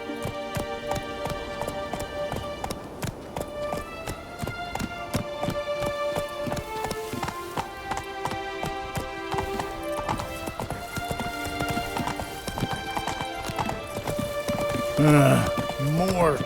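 Horse hooves clip-clop at a gallop in The Witcher 3, a rhythmic pounding that carries on through the whole stretch with music playing and voices talking over it.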